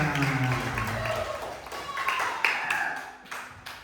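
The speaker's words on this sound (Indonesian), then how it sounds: "Tepuk tangan buat kita semua" Group applause from participants at a little-doctor health outreach session for children, a steady wash of clapping running under excited talk and voices throughout.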